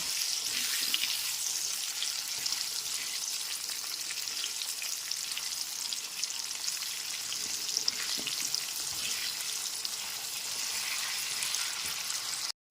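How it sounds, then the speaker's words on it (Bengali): Potato pieces coated with salt and turmeric fry in oil over a medium flame, giving a steady, dense sizzle that runs unbroken and close throughout, with no talking. "গ্যাসের ফ্লেমটা মিডিয়ামে রেখে আলুগুলোকে ভেজে নেব"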